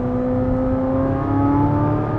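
A Corvette Z06 engine revs hard and close, a loud, sustained high-pitched wail with clear harmonic tones that rise slightly and hold steady, with no talking.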